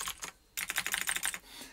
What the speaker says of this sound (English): it's got them neon switches, neon Razer switches. Clicky, yay!